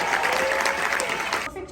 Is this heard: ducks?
no